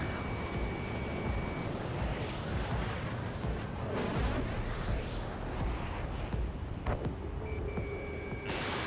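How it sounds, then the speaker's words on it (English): Missile launch in Ace Combat 7 flight combat game, a loud sustained roaring whoosh over dense jet and battle noise, with a high warning tone sounding briefly at the start and end. "Missile launched."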